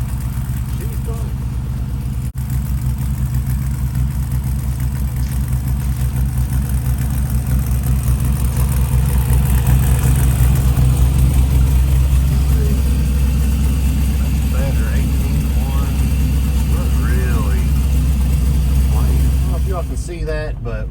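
Chevrolet LS V8 swapped into a Chinese car, idling cold, a steady low rumbling drone that holds evenly throughout, with a person talking over it.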